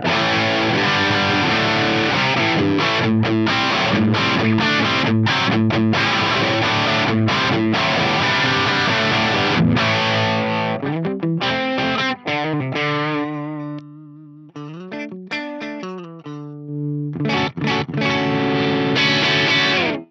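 Distorted electric guitar plays a sustained riff with chords and single notes at high volume, the tone dark and rolled-off at the top by a high cut EQ control. Short gaps break it near the end.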